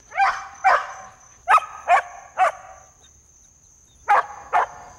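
A dog barks territorially in its yard, sending out short sharp barks in a loose cluster of five, a pause, then two more, fairly close and clear against a faint steady background tone.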